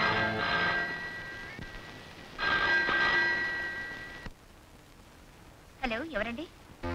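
A telephone rings in two bursts of trilling tones separated by a short gap, followed after a pause by a voice speaking.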